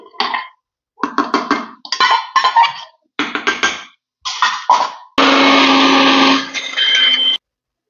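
Mixer grinder grinding ginger chutney with soaked tamarind, several short loud pulses of whirring followed by one longer steady grind, close and alone.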